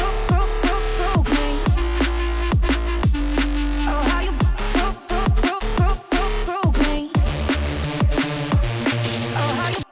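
A loud, dense jump up drum and bass drop hits with punchy kicks, heavy gliding bass stabs and a short chopped vocal drenched in reverb, running continuously with brief rhythmic cut-outs mid-way.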